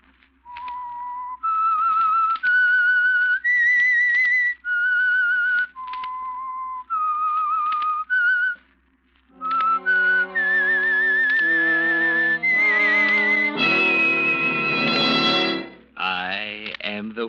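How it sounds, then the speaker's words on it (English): A theme melody for The Whistler, a 1945 old-time mystery radio show, whistled clearly in a sequence of sustained, wavering notes with reverb, ending in a swelling orchestral flourish. "That whistle is your signal for the Signal Oil Program"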